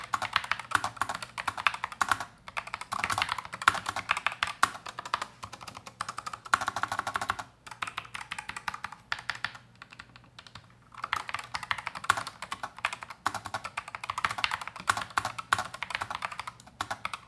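Rapid, fairly soft keystrokes from a Razer Huntsman low-profile mechanical keyboard, typed in continuous bursts with a brief pause midway, no voices.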